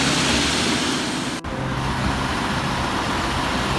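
Cars in road traffic in Japan, a continuous, steady roadway rumble and tire noise from passing vehicles, with a brief dropout partway through.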